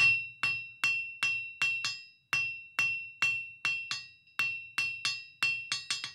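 A hand hammer rings on hot iron over an anvil while forging a taper for Viking longship fittings, about a dozen sharp, bright, ringing strikes in a steady, slightly irregular rhythm, close and alone.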